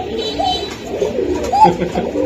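A pigeon coos close by in a loft of giribaz pigeons, with low throaty coos repeating over a faint background.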